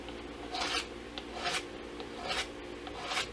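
A pen is sanded on a belt sander while a guitar is being built from scratch, giving four quiet, rhythmic rasping passes over a faint steady background.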